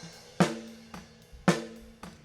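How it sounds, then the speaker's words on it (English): Unprocessed snare drum heard through its top and bottom microphones, four crisp hits alternating strong and softer at an even pace, bright rattling snap with short ringing tone, alone without talk. "We got snare top and snare bottom that sound like this."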